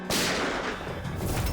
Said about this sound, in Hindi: ये क्या गोली चलने की आवाज है?